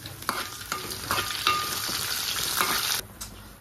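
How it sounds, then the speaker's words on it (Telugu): Onion, dried red chillies and curry leaves sizzle and fry in hot tempering oil for tomato charu, with a steady close crackle and occasional stirring scrapes in the pan. "ఉల్లిపాయ అంతా ఇలా వేగింది కదండి"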